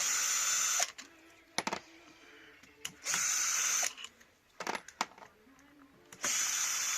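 A power tool whirs in three short, loud bursts with quiet gaps and light clanks between them as it spins bolts out of a Honda CD175 motorcycle engine.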